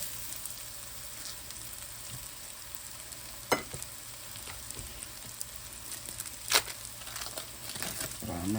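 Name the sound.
onions and mushrooms sautéing on a griddle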